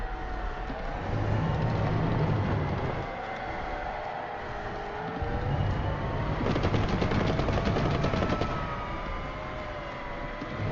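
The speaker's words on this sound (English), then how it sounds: "I wonder where these shots are coming from" Gunfire in a video game rattles steadily in the background, sounding fairly distant and muffled, with a brief denser burst of rapid shots partway through over a low droning ambience.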